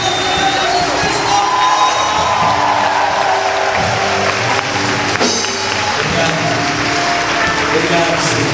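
Church congregation at a Pentecost service applauding and cheering continuously, a dense crowd roar with clapping and whoops, voices mixed in throughout.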